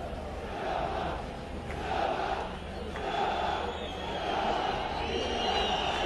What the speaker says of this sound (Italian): E si fanno sentire i tifosi giallorossi accorsi in gran numero oggi sugli spalti del Carlo Castellani